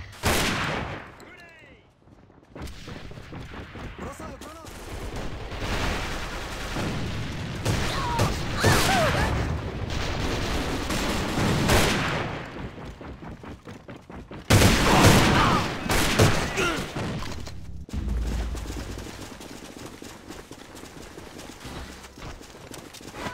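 Gunfire and grenade blasts fill a combat match in the online shooter A.V.A, with dense bursts of rapid shots and loud booming impacts throughout. A heavy blast hits around the middle, and faint voices sit beneath the noise.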